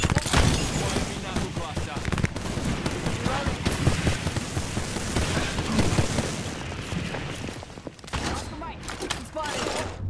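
Dense, rapid gunfire from an Apex Legends match, overlapping bursts and single shots crackling almost nonstop for the whole stretch, loud and close, with a brief lull near the end before shooting resumes.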